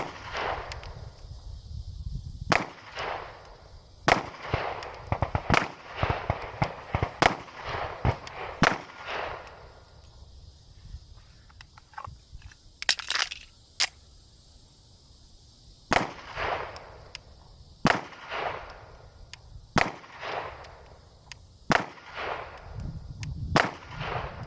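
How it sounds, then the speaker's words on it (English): A CZ Shadow 2 pistol fires a group of shots at a target 10 yards away at an outdoor range, sharp loud reports coming one by one at an irregular steady pace, roughly a dozen in all. "Now we're just gonna shoot a group here at 10 yards."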